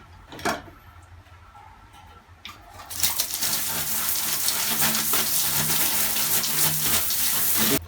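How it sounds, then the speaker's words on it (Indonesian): After a few soft handling knocks, a jet of water starts spraying over a fishing reel being cleaned, a dense steady hiss and splatter that continues close and loud to the end. "setelah ini disemprot dengan air seperti ini"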